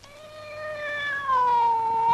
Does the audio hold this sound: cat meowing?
yes